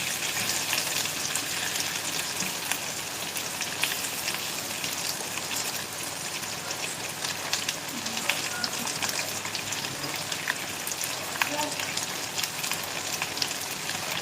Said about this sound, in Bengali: আর একটা আমি পেঁয়াজ নিয়েছি মাঝারি সাইজে। এটা কিন্তু আর একটু ভাজা ভাজা হবে